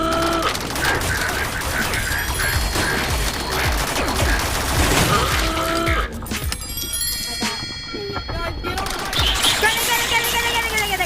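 Rapid gunfire in the multiplayer game Rec Room: continuous loud shooting with clinking mechanical and chiming game effects, voices faintly mixed in.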